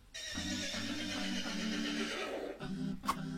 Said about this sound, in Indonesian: Sebelum mobil dibuat, orang-orang dalam bepergian menggunakan kereta kuda.